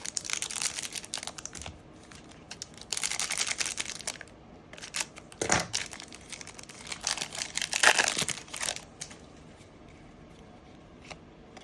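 Crinkling and tearing of an Upper Deck Series Two 2025-26 hockey card pack being ripped open, with bursts of foil crumpling, card shuffling and handling noises in irregular spurts, close up and with no talking.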